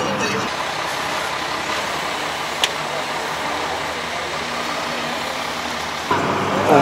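Engine of an old-school local bus in Venezuela rumbles steadily and fairly loud throughout, with a brief sharp click midway and a surge near the end.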